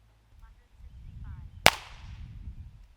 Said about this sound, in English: let's fire the Colibri with no RevolverSeal and no Whisper Pickle